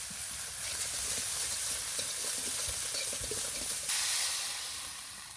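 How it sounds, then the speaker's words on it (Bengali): Pangas fish roe being sautéed with salt, cumin, cinnamon, cardamom and cloves in a pan, a steady close sizzle and hiss with stirring scrapes throughout, no talking. "আমি একটু মশলা দিয়ে দিচ্ছি এবার এটাকে ভালো করে কষাই নি"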